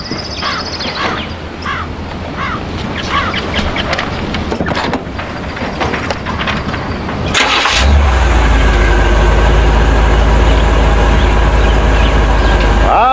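An old car engine with a bent fan blade cranks and catches, then settles into a loud, steady running drone that fills the rest of the stretch after a quieter, busier start.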